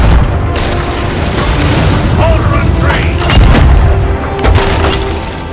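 Ship cannons fire during a naval fight in the video game Sea of Thieves, heavy booms landing irregularly amid clattering wood and splashes, loud and close, with a voice shouting over the battle.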